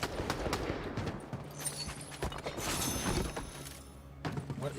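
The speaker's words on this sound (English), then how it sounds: "I hear gunfire galore." Bursts of rapid video game gunfire crackle and pop in a noisy, busy mix, fairly quiet overall with some rumbling underneath.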